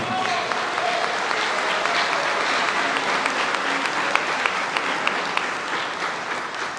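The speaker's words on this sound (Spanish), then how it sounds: "Reciban por ahora, por favor, con un gran aplauso" An audience gives a congresswoman warm, sustained applause as she is welcomed at a cultural forum, with steady crowd clapping throughout and a few louder individual claps near the microphone.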